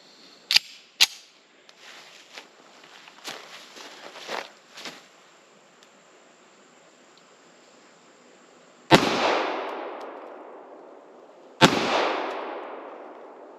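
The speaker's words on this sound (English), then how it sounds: "I go high up on a target and I go lower with the rifles. I'll do 2 shots." Two loud rifle shots ring out a few seconds apart against a birch tree about 5 3/4 inches thick outdoors, each a sharp crack with a long decaying tail, preceded by faint clicks and handling noises.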